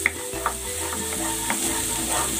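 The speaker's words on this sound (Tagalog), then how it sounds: "Igigisa ko na tong bawang." Garlic sautéing in cooking oil for scrambled eggs, a soft continuous sizzle with a few light utensil clicks against the pan, fairly quiet and with no talk.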